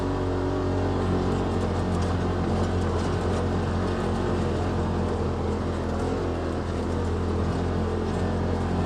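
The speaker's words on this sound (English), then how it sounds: "So the tires are spinning a little bit" A 2018 Polaris RZR XP Turbo side-by-side drives through snow with its tires spinning a little, a steady close engine drone and low rumble running unbroken throughout.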